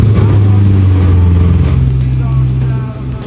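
Wrecked Corvette Z06 engine running loud and close with a steady low idle that rises slightly in pitch partway through, while a voice talks briefly over it.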